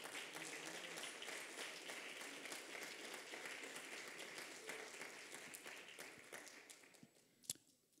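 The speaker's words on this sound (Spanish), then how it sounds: "Dele un aplauso al Señor" Congregation at a Wednesday intercession church service applauding, a dense, steady wash of many hands clapping that carries on throughout and thins slightly toward the end, with one sharp louder clap near the close.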